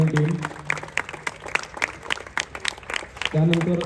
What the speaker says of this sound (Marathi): सागर आणि त्यांचे सगळे रेफरीज यांच्यासाठी खूप जोरदार टाळ्या